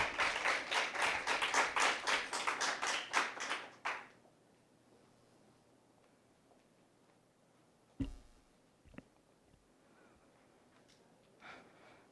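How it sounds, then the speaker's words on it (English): An audience at a school impromptu speaking competition final claps in a dense burst of applause for about four seconds, then it stops abruptly, leaving a quiet room with a few faint taps and breaths. "Please give her a round of applause."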